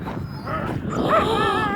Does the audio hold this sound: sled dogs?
yes